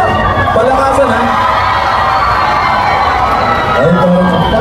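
A festival crowd at a BGYO show in Toronto roars and cheers continuously, loud and dense, with whoops and shouts rising at the start and end.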